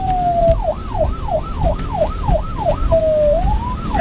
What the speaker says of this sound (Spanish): luego sonó la sirena